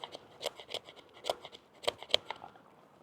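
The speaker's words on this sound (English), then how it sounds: "where the distal taper is, yeah, it will actually get you some scraping done there" Short scraping strokes from the distally tapered spine of a budget Scandi-grind boot knife, a series of about eight quiet, close, dry scratches in an uneven rhythm.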